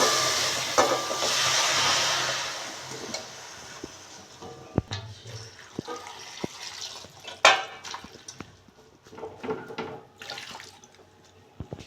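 Chopped banana flower being washed in water in a home kitchen before cooking with prawns: running water splashes at first, then gives way to sparse drips, clinks and sharp knocks of handling nearby.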